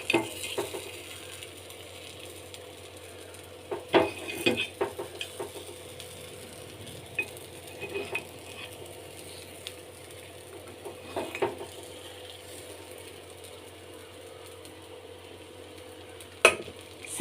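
Green gram kuzhi paniyaram frying in a pan on a medium flame, a quiet steady sizzle broken by scattered sharp clicks and scrapes as the pieces are turned one by one.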